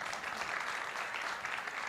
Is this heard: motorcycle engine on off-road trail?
no